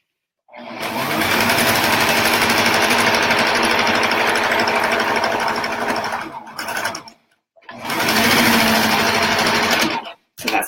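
A sewing machine stitches a quarter-inch seam around a slouchy toy sack in two long, loud, steady whirring runs, separated by a brief pause.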